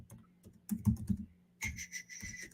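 Quick bursts of typing on a computer keyboard, a cluster of clicky keystrokes followed by a second rapid run, close and clear with no talking.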